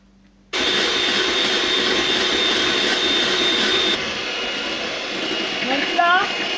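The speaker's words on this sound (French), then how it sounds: "hors du feu, je vais continuer à fouetter jusqu'à complet refroidissement" An electric whisk beats a chocolate log mixture off the heat, a loud steady motor whir close by, with a voice speaking briefly near the end.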